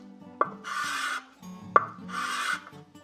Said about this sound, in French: Et puis avec un bout de 120, de rectifier jusqu'à ce qu'il n'y ait plus de marque de crayon.